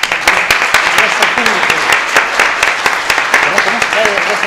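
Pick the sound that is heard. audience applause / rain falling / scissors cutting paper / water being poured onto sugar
audience applause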